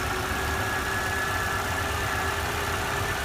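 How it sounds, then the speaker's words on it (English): A 1999 Subaru Legacy B4 RSK with a twin-turbo boxer engine idles steadily, giving a constant low rumble with a faint whine on top, close and unchanging throughout and with no voices. "Turbo boxer engine, classic Subaru design, nice and clean, doesn't sound any strange, pretty solid."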